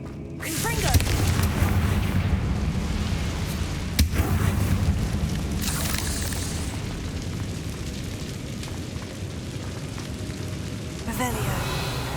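Fiery Confringo spell blasts burst in the Hogwarts Legacy game, booming explosions layered over a dense, continuous battle din with a sharp hit near the middle; a voice speaks over the action.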